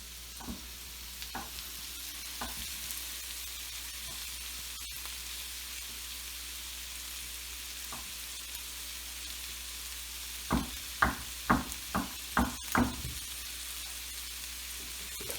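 Rice frying in a pan for fried rice, a steady hiss of sizzling broken by a run of sharp spatula scrapes and taps near the end.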